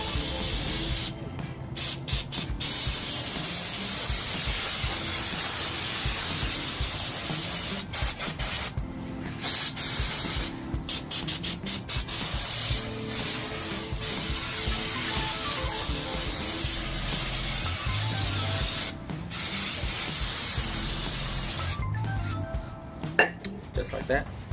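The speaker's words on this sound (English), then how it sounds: "go ahead and get yourself some brake clean. And generously apply." Brake cleaner is sprayed generously onto the rear drum brakes of a 2010 Chrysler Sebring. Long, loud, close aerosol hissing bursts come with brief pauses between them, along with some metallic clinks, and someone talks over parts of it.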